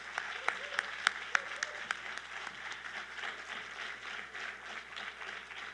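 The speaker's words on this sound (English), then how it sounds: "Let's give him a round of applause as well." Audience applause at a city State of the City address, moderately distant, steady clapping with a few sharper claps standing out early on, continuing evenly throughout.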